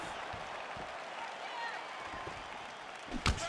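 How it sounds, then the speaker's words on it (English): A UFC 4 arena crowd gives a steady wash of applause and murmuring during an Adesanya versus Whittaker fight, with a louder impact near the end and a commentator talking over it. "You hear this crowd just eating out of his hand, oohing and on every time he advances"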